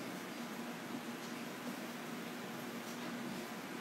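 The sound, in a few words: electric fan running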